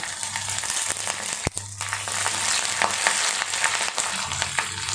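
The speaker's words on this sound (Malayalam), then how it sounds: "ഇതൊന്ന് വഴറ്റിയെടുക്കാം." Garlic, ginger and curry leaves sauté in a pan for a Kerala fish curry, a loud, close frying sizzle with stirring scrapes and one sharp knock of a spoon against the pan.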